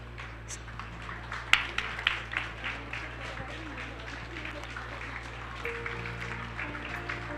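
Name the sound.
audience applause for dignitaries at a ceremony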